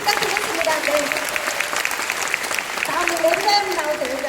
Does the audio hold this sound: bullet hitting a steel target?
no